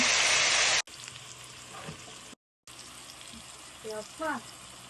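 Banana stem sautés in a covered pan, opening with a brief loud sizzling hiss that drops to a soft, steady cooking murmur while someone speaks over it.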